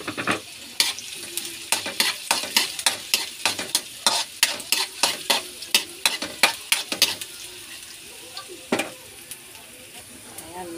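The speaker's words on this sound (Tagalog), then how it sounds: "Haluin natin ang sibuyas. Lagay natin yung bawang." Onion and garlic are stirred in a hot pan: a rhythmic run of close, crisp spatula scrapes and knocks over a continuous sizzle, which thins out toward the end, with one last stroke.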